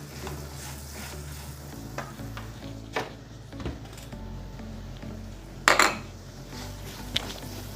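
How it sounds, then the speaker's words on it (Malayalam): Carrots being stirred in a hot pan for a carrot, mango and bitter gourd pickle: a steady close sizzle with repeated scraping and clinking of a spoon against the pan, and one louder clatter near the end. "ഇളക്കി കൊടുക്കാം. ക്യാരറ്റിന് ഒത്തിരി വാടുകയൊന്നും വേണ്ട."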